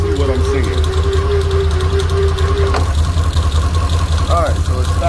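A Can-Am ATV engine runs steadily at idle with a low rumble as it is put into reverse, a brief clunk midway and a faint mechanical whine over the constant drone.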